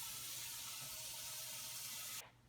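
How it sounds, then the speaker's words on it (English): Tap water runs steadily into a cooking pot, a bright continuous splashing rush that stops abruptly near the end. "prepare the pot with water."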